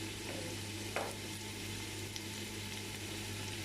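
Whole spices frying in a pan for Bangladeshi beef biryani, a steady soft sizzle throughout with a brief louder hiss near the start, quiet and close, no voices.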